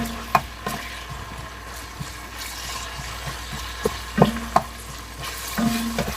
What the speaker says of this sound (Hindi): अब हम यहाँ पर अपना प्याज जो है वो डाल के फ्राई कर लेते हैं लाइट ब्राउन।